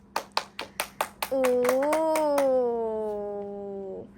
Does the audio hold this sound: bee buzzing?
no